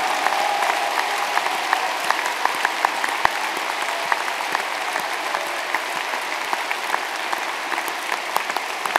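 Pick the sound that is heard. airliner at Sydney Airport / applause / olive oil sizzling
applause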